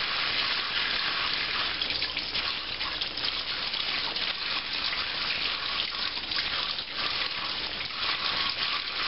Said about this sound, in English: So just keep washing your chilies.